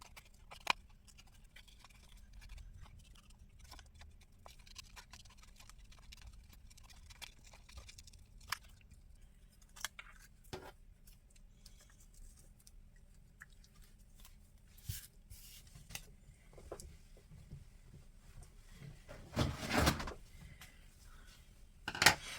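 Scissors cut a paper image out for a handmade Christmas artist trading card. Sparse, quiet snips and paper rustles come and go over a near-silent room, with a brief louder crinkle toward the end.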